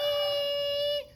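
A voice imitates a huge swarm of mosquitoes and black flies with one steady, sustained nasal buzzing hum that holds for about a second and then cuts off.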